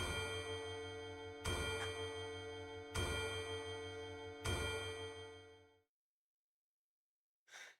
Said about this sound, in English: The chiming of the clock rings out loudly.